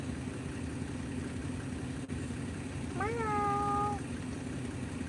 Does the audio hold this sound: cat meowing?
yes